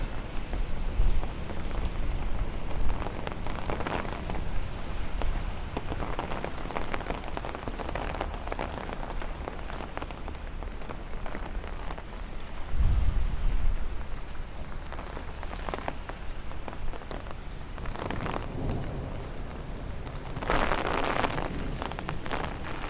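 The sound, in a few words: rain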